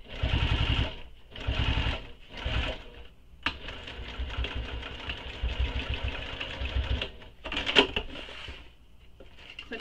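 A sewing machine topstitches along the edge of a small crossbody bag in several close, rhythmic bursts, with a longer steady run in the middle and light clicks and fabric handling between passes.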